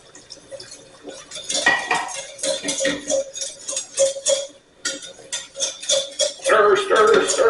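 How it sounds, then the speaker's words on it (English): A spoon stirs potato and cauliflower au gratin sauce in a pot, giving repeated close clinks and scrapes against the metal in a quick, steady rhythm that grows busier toward the end. "Keep stirring, and it's gonna thicken"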